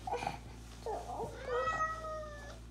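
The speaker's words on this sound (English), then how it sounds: "Cat." A cat meows a few times from an Alexa smart speaker, close and clear, ending in a long drawn-out wavering meow over a low steady hum.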